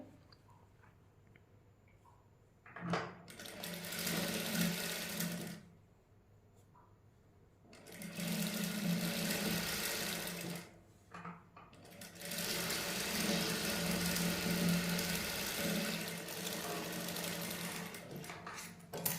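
A sewing machine stitches lace onto a sleeve in three separate runs of rapid whirring, short then longer, with quiet pauses between as the fabric is repositioned.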